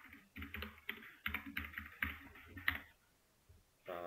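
Typing on a computer keyboard during a database class, with quick clusters of soft key clicks, a pause, then a final burst, close and quiet, with no voices.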